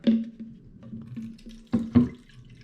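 Water is poured from a measuring container into the bottle of an Auto Finesse snow foam lance, a close steady trickle with two louder gushing surges near the end and no talk.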